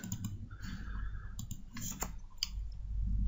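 A few quick computer mouse clicks, including a crisp double-click, sound close and sharp against a quiet background.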